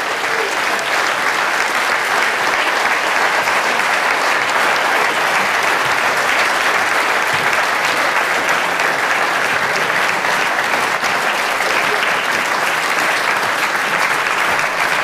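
Big, sustained applause from a large audience greeting Olympic ski champions Marc Girardelli and Pirmin Zurbriggen at a talk event, a loud, dense, unbroken roar of clapping lasting the whole stretch.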